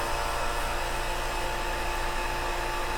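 A Robinair 15800 vacuum pump runs continuously, pulling down a vacuum with a loud, steady, close-up mechanical hum and whine that stays even throughout, with no speech.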